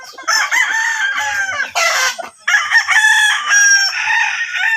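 A pumpkin hatch yellow line gamefowl rooster crows loudly and close in a backyard, several drawn-out calls with short breaks between them, plus a brief clucking note.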